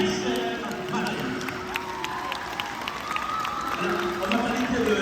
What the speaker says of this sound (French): je vous demande de vous lever et d'applaudir votre très chère marraine